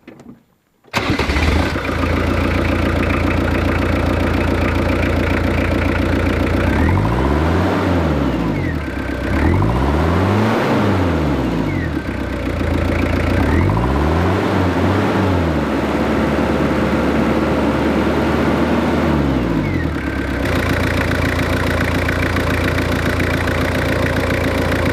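A Jeep Cherokee XJ engine cranks and catches about a second in, then settles into a loud, steady idle with a few rising and falling revs.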